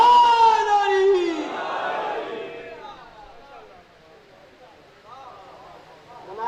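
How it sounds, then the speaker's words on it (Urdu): A large crowd at a Muharram majlis in Gojra loudly chants salawat and religious slogans in unison, the voices swelling near the start and then fading into a quieter murmur that rises again at the end. "صلوات پڑھو اہل بیت کی ذات پہ بلند آواز۔ کل ایمان کل قرآن نعرے حیدری۔"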